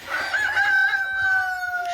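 A young Chinese Silkie rooster crows nearby, one drawn-out call that rises and trails off, with faint clucking around it.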